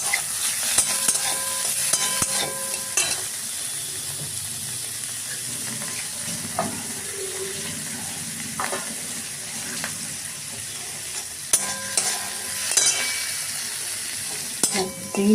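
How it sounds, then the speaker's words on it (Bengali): Prawns frying in ghee in a wok, with sizzling and stirring scrapes, occasional clatter and utensil knocks over a steady frying hiss. "দেখো, কড়াতে ঘি দিয়েছি। এবার চিংড়ি মাছগুলো দিয়ে দিলাম।"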